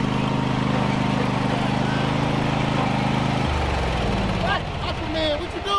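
Lawn mower engine running with a rough, buzzing drone at first, then it shifts to a lower, uneven chug. People talk over it.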